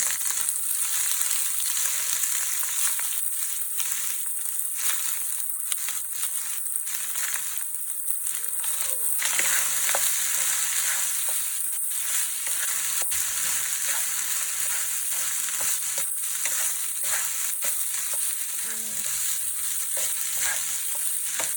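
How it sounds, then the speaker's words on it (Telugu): Cooked basmati rice with cumin sizzles steadily as it fries in a pan over high flame. Scraping and tossing noises come through at an even, continuous level, with no talk. "ఉడికించుకున్న బాస్మతి రైస్ వేసుకొని ఫ్రై చేసుకోవాలి, టాస్ చేసుకోవాలి"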